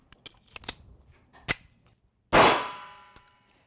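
A Kahr Arms PM9 9mm pocket pistol fires once with a sharp, loud report that decays quickly, preceded by several metallic clicks and handling clangs.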